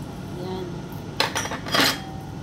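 Metal utensil clinks and scrapes against a pot while cornstarch is mixed for malagkit over low heat, two short bursts of rattling over a quiet background hum.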